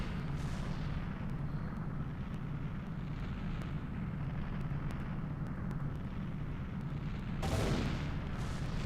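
Ganon's castle collapses and explodes at the end of Zelda: Ocarina of Time, a heavy, continuous rumbling roar that fills the whole stretch, with a brief louder burst near the end.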